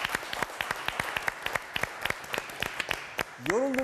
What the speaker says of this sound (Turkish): Bir de alkış alalım Nazlı Hanım'a.